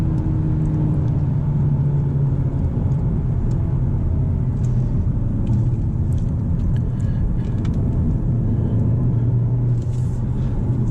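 A Hyundai Elantra N with a 6-speed manual driven hard, heard from inside as a loud, constant low engine and road rumble with a steady drone and faint rattles, without talk.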